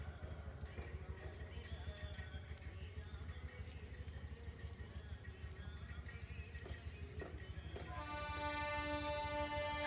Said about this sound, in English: I like trains from Falaknuma, Wadi, MEMU Express.